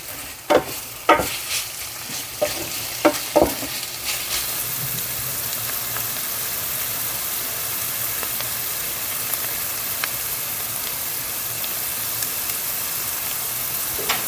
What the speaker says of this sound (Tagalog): Nagmamantika ang ating ginisang giniling.